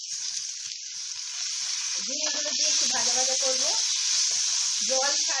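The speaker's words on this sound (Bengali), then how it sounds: "ঝিঙেগুলো দিয়ে একটু ভাজা ভাজা করবো, জল ছাড়বে ওটা" Sliced ridge gourd sizzles and hisses in a hot pan with oil and salt, a steady close frying crackle that swells as the pieces are stirred, with someone speaking intermittently over it.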